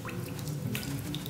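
Water in a cave in Zelda: Link's Awakening, soft dripping and trickling sounds over a faint low ambient hum, quiet and brief.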